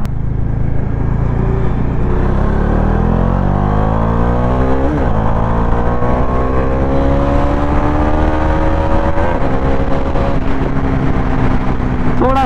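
An Ola S1 Pro Gen2 electric scooter and a Dominar 400 motorcycle drag race in second gear, the bike's engine revving hard and rising steadily in pitch, with loud close-up wind rush throughout.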